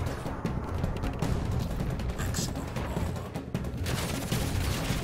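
In Crysis Warhead, a dense, continuous crackle of enemy gunfire rattles without a break, mid-distance and steady, with a voice talking over it.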